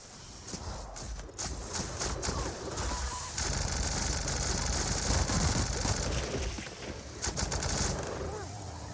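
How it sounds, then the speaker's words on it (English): A Gatling gun fires in a video game in a dense, rapid rattle of shots that runs for several seconds over rumbling background noise. "The Gatling gun, by the way, unbelievably strong"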